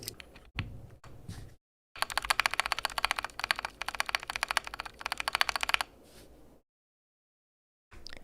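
A computer keyboard's spacebar is pressed over and over with its switch flipped around, giving a quick run of sharp, close clacks and short breaks of silence between the bursts.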